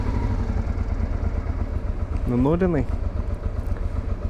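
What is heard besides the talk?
old motorcycles riding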